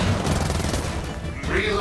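Loud, continuous gunfire and explosive blasts fill a frantic firefight in Gears of War 4, a dense wall of shots that dips briefly before surging back up.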